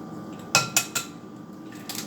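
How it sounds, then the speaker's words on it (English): Eggs cracked against a bowl for Spanish tortilla give three quick, sharp knocks close together, followed by a softer clink, with no talking. "we're going to crack, I think 4 eggs should do the trick"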